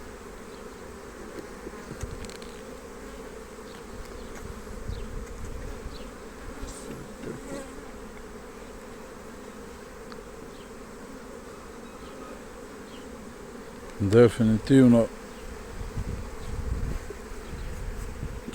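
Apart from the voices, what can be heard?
honeybees buzzing around hive frames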